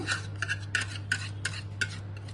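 A spoon scrapes and stirs through a cake mixture as fresh cream is folded in for a rose milk tres leches cake, giving a steady rhythm of six or seven close scraping strokes over a low hum, with no talking.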